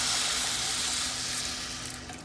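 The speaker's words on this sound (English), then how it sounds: "I'm gonna add in hot water" A loud sizzling hiss rises as hot water hits a hot pan of toasted orzo pasta with spicy tomato base, then slowly fades as the steam settles.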